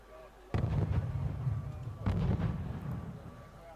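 Artillery firing in the video game Wargame Red Dragon: two heavy booming blasts about a second and a half apart, each followed by a long rumbling decay, loud and close.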